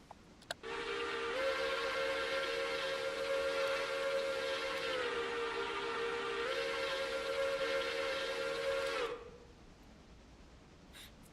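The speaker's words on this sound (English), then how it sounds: "Proper whistle." A model railway train sounds a long, steady whistle while rolling across a bridge toward the station, holding the tone for about eight seconds with slight pitch shifts before cutting off.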